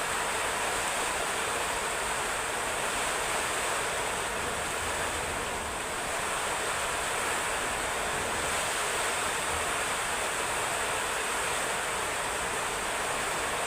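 A loud, unbroken roar of rushing, rising floodwater during Typhoon Verbena fills the scene, steady and close, with no voices.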